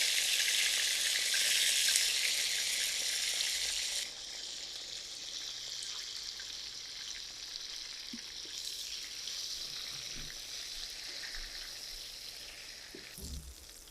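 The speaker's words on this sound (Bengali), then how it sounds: "বেগুনটাকে আমি সুন্দর করে ভেজে নিয়েছি" Small pieces of eggplant coated in spices fry in oil with a bright, steady sizzle that is strongest for the first few seconds, then settles into a softer hiss with occasional light knocks.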